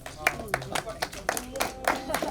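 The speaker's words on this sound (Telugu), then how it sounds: "గట్టిగా క్లాప్స్ కొట్టాలి." Scattered audience clapping at a film success celebration, a handful of distinct hand claps, moderately close, with voices talking underneath.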